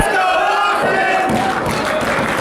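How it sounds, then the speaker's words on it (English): Pro wrestling crowd in an arena making a steady, loud roar of cheering and shouting that continues throughout, with a dull thud partway through. "And this crowd trying to cheer Austin Ames on."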